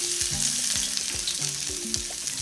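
Garlic frying in oil at the start of a paella with anchovies and clams: a loud, dense sizzle fills the pan, with repeated low knocks and scrapes of a utensil, no voices.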